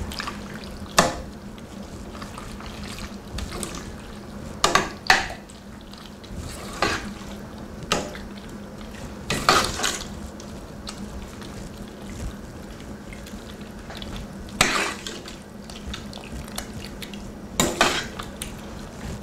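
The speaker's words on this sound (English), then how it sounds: "now you just wanna stir it around so the cheese melts" Mac and cheese being stirred in a pot as the cheese melts, with intermittent scrapes and clinks of a utensil against the pot over a steady low hum, no talking.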